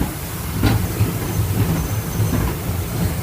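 Steam engine Katie, a small locomotive on the Kirklees Light Railway in Yorkshire, rumbles steadily through a long dark tunnel, a continuous low rolling drone with a brief hiss burst early on and faint rhythmic wheel clatter.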